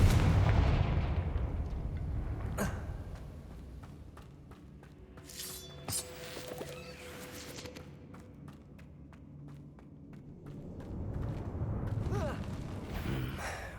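Fire-spell blasts in the Hogwarts Legacy video game: heavy booming explosions and thuds, loudest at the start and again near the end, with sharp cracks and crackling debris in between.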